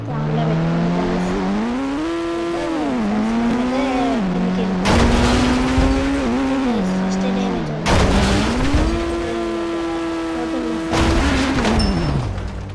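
A racing car in a video game at full speed, its engine whining loud and constant and pitch rising and falling with gear changes, with a few sharper bursts, and someone talking over it.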